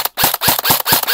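An airsoft gun, a KJW KP-06 pistol, fires a quick string of about five sharp, loud shots close by at a steady rapid rhythm, with no talking.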